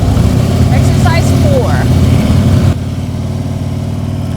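A Harley-Davidson Road Glide motorcycle engine runs steadily and close by with a dense low rumble, held at raised revs for a few seconds before it drops to a lower, quieter level; faint chirps sound above it.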